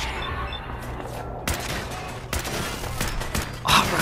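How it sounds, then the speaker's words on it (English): Rifle gunfire rattles in Fallout 4, sustained loud bursts of shots layered over a constant noisy combat backdrop, with a few sharper cracks standing out near the end. "This gun's just so dope with this rifle now."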